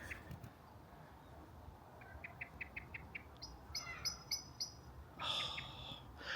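Birds chirping and tweeting outdoors in short repeated bursts, fairly faint against a soft background hiss, with a brighter call near the end.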